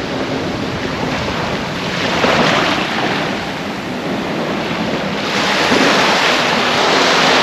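Ocean surf rolls onto Patong Beach in Phuket, Thailand, as a loud, steady wash of breaking waves. Wind buffets the microphone throughout, and the surges swell twice.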